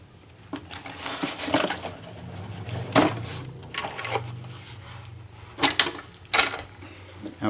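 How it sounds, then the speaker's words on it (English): The cover is pulled off a Pittsburgh 1.5-ton compact aluminum racing jack with rapid pump, giving scattered close metallic clanks, scrapes and knocks of varying loudness over a low steady hum. "Okay, let's take this cover off, and now we can see more or less the whole jack."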